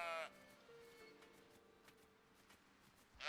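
Sheep in the medieval video game Bellwright give a couple of short, nasal bleats, one at the start and one at the end, over a quiet game soundscape.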